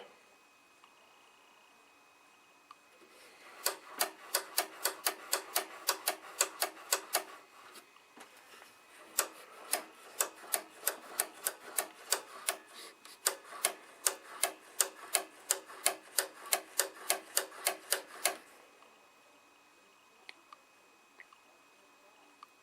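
The dirty power switch knob on a Philco Town and Country radio is cranked over and over, making a long run of close, evenly spaced sharp clicks in two bursts with a short break between them.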